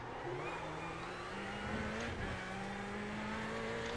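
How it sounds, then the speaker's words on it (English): Ferrari 488 GTE race car engine in iRacing at Sebring, with a steady loud drone rising in pitch as it revs through the gears, then holding high under continuous road and wind noise. "The sound of the car makes me go to 6th."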